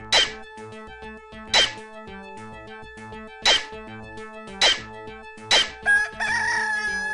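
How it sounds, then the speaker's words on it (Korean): A rooster in the video game Elancia crows five times at irregular intervals, sharp and close over a quiet looping game tune, followed by a brief burst of other game sound. "닭이 울기도 하는구나."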